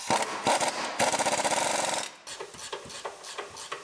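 Bolts on a 2019 GMC Sierra Denali HD rebuild are tightened with a rapid, loud ratcheting burst, then a slower series of separate metallic clicks close by.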